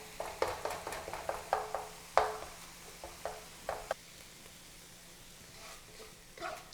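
Spicy turkey sausage chunks cooking in a pot for Cajun dirty rice, with a run of soft, quiet stirring scrapes and brief sizzles, then a short pause before a last scrape.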